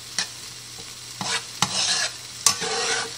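Vegetables and eggs cook side by side in a pan, with a soft sizzle under four or five sharp scraping stirs of a utensil at irregular intervals. No one speaks.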